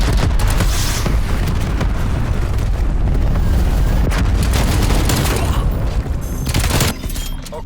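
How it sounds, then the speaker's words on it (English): Cruise missile strike in Call of Duty: Black Ops Cold War multiplayer, a loud, continuous roar of blasts and rumbling booms with scattered gunfire pops, close and dense for several seconds. "Cruise missile inbound."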